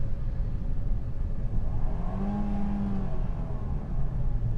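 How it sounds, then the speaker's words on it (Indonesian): A steady car engine idles in neutral, heard from inside the cabin, a low constant hum with a faint tonal whine, no talking. "Yaitu ada di suara knalpotnya."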